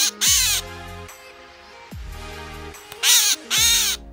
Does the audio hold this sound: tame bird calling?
yes